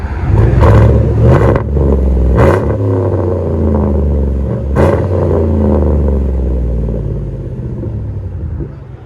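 A 2015 Chevy Tahoe with a 5.3L V8 and a muffler-deleted exhaust revs in a few sharp bursts, giving a deep, close rumble that settles back to a steady idle between and after the pulls.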